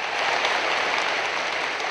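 An audience at a laptop award ceremony claps in a steady, dense burst of applause that holds at a constant level, with no voices over it.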